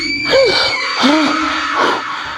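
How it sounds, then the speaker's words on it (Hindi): Screaming in the Evil Nun video game: a few loud, drawn-out wailing cries rise and fall in turn over a steady, hissing game ambience. "चिल्लाने की आवाज, स्त्री आ रही है।"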